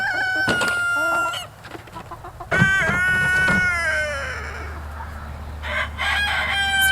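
Barnyard chickens, hens clucking loudly and close around a nesting box on a farm, with a rooster crowing mixed in and a steady low hum underneath.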